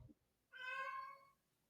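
A single cat gives one clear, drawn-out meow lasting under a second, close and fairly loud against a quiet background, with no talking.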